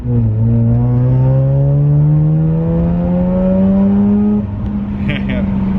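A rare R3 Mazda RX8 rotary engine warming up close by, a steady loud idle with a rising whine and harmonics that climb slowly, then settle into a rougher, lower note near the end.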